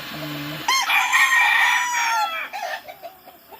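Fighting gamecocks being trained under night lights; a low cluck is followed by one long, loud, close crow that fades into a few trailing clucks.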